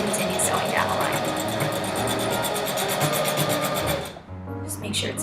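A sewing machine stitches an infinity scarf in a fast, even mechanical whir. It runs steadily and then stops abruptly near the end, and a voice talks over parts of it.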